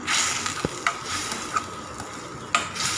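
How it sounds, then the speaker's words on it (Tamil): Green chillies with curd and salt are sautéed in a pan, giving a steady sizzling hiss broken by several sharp scrapes and taps of the spoon against the pan. "நல்லா அந்தளவு வதக்கி விட்டுக்கலாம்"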